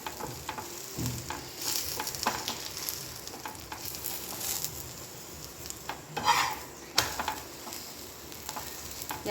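Gobhi paratha cooking in ghee on a hot pan, a continuous sizzle and frying crackle with occasional scrapes and clinks of a spatula turning the flatbread.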